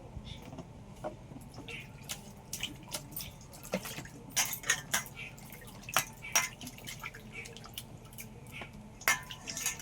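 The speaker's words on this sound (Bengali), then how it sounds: "আমি আমগুলো সব গোটা ধুয়ে নেব" Whole raw mangoes being rinsed in water, with scattered drips, splashes and light clinks of a bowl or utensils close by, irregular and fairly quiet with no talk.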